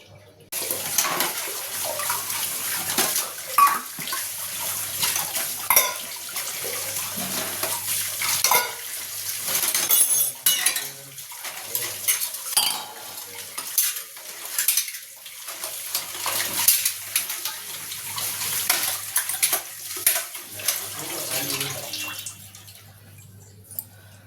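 Dishes and pots are scrubbed and rinsed under a running kitchen tap, with water splashing in uneven bursts and occasional clinks of utensils over about twenty-four seconds, no voices.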